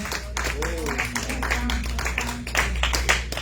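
A congregation claps at a prayer service, rhythmic hand claps repeating steadily with a voice speaking over them.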